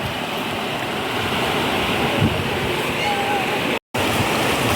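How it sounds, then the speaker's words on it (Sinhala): A strong river current rushes in a constant, broadband roar close by, loud and unbroken except for a brief dropout. "අද නම් ගඟේ වතුර පාර ටිකක් සැරයි"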